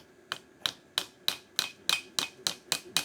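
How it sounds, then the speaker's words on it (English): A hammer taps a sheet-metal pleat on an anvil while patch panels are made for a 1953 Ford F100, giving about ten sharp, evenly spaced metallic strikes close by with no talking. "we put our pleat on the anvil, and we take the hammer"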